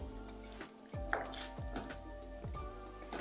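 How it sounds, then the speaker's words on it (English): A utensil scrapes and knocks against a pot of pumpkin curry in several slow, irregular strokes, with faint clinks and soft wet squelches, quiet and close with no speech. "And give it a good stir."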